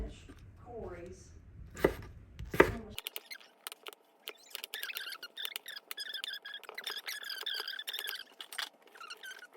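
A kitchen knife chops vegetables into half-inch pieces for a chicken casserole at home, a fast run of close, steady cutting-board taps after a voice and a couple of sharp knocks at the start.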